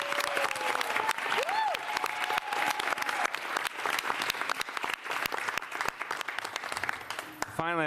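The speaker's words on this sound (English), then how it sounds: "let's give her another round of applause" A crowd applauds at a New York City mayoral education event, steady dense clapping with sharp individual claps standing out, continuing throughout, with a brief voice near the start and the end.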